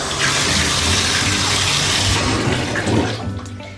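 Bath water pours steadily into a tub to wash a puppy, a broad rushing gush that carries on for several seconds before easing off a little near the end.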